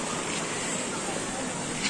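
Rushing water at Verdivia Falls waterfall makes a dense, steady roar that fills the short stretch without a break.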